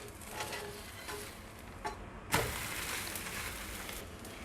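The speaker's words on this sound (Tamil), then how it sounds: "எல்லாம் எண்ணெய் ஊற்றி சுற்றியும் அந்த தோசை வேக வச்சு எடுத்துக்கலாம்" Tomato dosa cooking in oil on a pan, a soft continuous sizzle with a few light scrapes and one sharper clatter midway.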